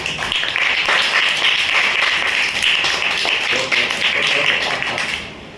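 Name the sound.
group of children clapping hands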